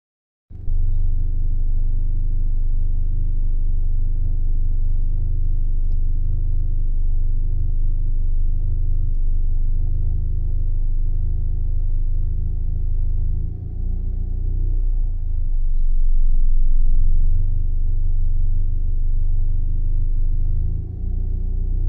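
A Renault Laguna engine idling at working temperature, a steady low rumble heard up close and loud throughout, with a slight swell near the end and no voices.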